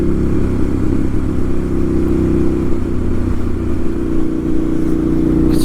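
A 2012 Ducati 796 Monster ridden on the road, its engine giving a loud, steady drone under heavy wind rush, holding a constant pace throughout with no talking.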